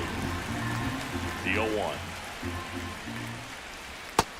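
Steady rain falls in MLB The Show 25 during a Yankees vs Giants game, a soft continuous patter running under a play-by-play commentator's voice, with a brief sharp knock near the end.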